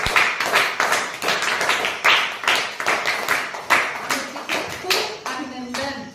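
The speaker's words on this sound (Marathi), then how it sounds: "त्याच्यासाठी टाळ्या झाल्या पाहिजे बघा" Children clap together to celebrate exam results, a loud close run of rhythmic, roughly even handclaps with some talk mixed in.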